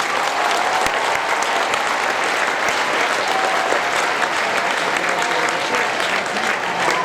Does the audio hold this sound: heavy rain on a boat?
no